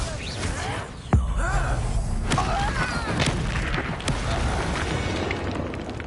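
An Incendio fire spell blasting in Hogwarts Legacy, with a sharp booming burst and a crackling rumble that keeps churning among loud, dense game-combat effects.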